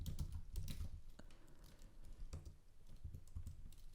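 Fingers clatter on a computer keyboard while React code is written, a quiet, steady patter of keystrokes with small bursts and pauses, close by and without speech.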